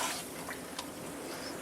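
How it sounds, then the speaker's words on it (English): Baking soda being stirred into a pot of boiling water for pretzels, a soft, steady bubbling churn close by with faint scraping, ending in a brief sharp clink. "I'm just going to stir it in."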